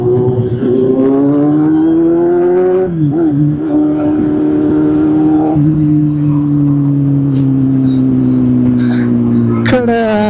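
A superbike engine revs hard and steadily in a tunnel, its loud, sustained drone rising and dipping in pitch with a brief throttle blip near the end, while voices talk over it.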